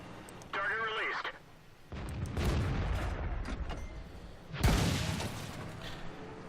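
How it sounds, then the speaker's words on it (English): Artillery fire in the World of Tanks game on the Karelia map, heard as heavy booming blasts and rumbling impacts that come in bursts, with a brief electronic radio-like chirp early on and game voice callouts around them. "Here comes the artillery."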